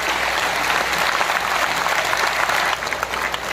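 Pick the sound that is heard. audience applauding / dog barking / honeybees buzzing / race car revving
audience applauding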